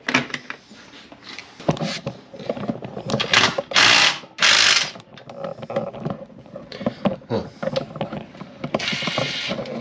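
A ratchet with a 13 mm deep socket works a bolt on a 2012 Linhai 400 ATV, giving close, repeated bursts of rapid clicking with short pauses between strokes.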